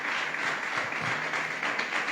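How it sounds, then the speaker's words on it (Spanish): Applause from a church congregation, a dense continuous burst of clapping at moderate level, with faint voices under it. "Dale un fuerte aplauso a nuestro Dios."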